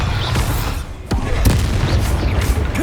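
Bombarda spell explosions in Hogwarts Legacy, loud close booms and bursts in quick succession, one sharp blast standing out amid continuous rumbling battle noise.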